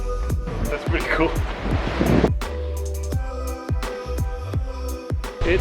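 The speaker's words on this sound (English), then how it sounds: "It is so windy and getting quite cold." Strong wind buffets the microphone at a viewpoint on Rangitoto volcano, a steady loud rumbling roar with gusts, while people talk over it.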